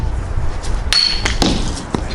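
A Cold Steel hunting boomerang strikes a glass bottle, giving a few sharp, close clacks and clinks spread over a couple of seconds with no shattering.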